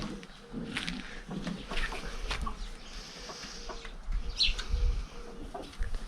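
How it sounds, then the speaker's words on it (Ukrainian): Chickens cluck softly and intermittently at a moderate distance, mixed with faint rustling and outdoor background noise. "кури."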